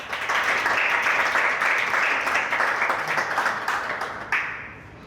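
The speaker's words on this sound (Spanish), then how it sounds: "Denle un aplauso al Señor." Congregation applause during a Spanish-language church service, a dense, loud wash of clapping that holds steady for several seconds before thinning and tapering off near the end.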